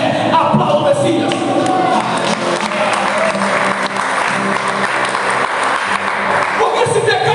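Congregation applauding at a church ministration led by a bishop, steady loud clapping sustained throughout with crowd noise and voices mixed in.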